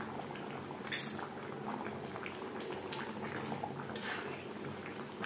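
Chicken curry for homemade biryani simmers in a pot, giving a soft, steady bubbling hiss with a faint clink of utensils.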